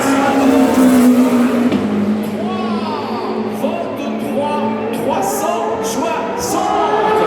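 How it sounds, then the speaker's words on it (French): A Porsche number 6 race car speeds past during Le Mans 24 Hours qualifying practice, a loud continuous engine roar with a falling pitch as it goes by, mixed with other car noise and faint crowd ambience. "la Porsche numéro 6 passe"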